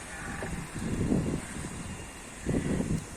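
Wind gusts buffet a homemade solar tracker outdoors, rising in two strong rushing surges with quieter lulls between them, with no voices.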